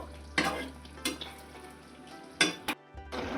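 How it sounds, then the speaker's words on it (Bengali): Chili paneer is stirred with a spatula in a simmering pan, giving a steady close bubbling sizzle broken by a few sharp scraping strokes of the spatula against the metal, with no voices. "খুন্তি দিয়ে আমি একটু নাড়িয়ে চাড়িয়ে দেবো, আঁচটা বাড়িয়ে দিচ্ছি, একটু ফুটে উঠবে 1 মিনিট মতো।"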